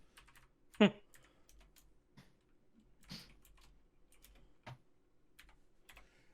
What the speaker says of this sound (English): Sorry, I don't have any pen and paper, so I have to actually type this.